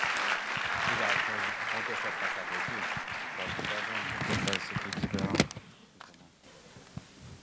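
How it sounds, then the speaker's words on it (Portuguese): An audience at a scientific conference in Brazil claps in a sustained round of applause that fades out after a few seconds, with voices mixed in. "Salve de palmas, por favor."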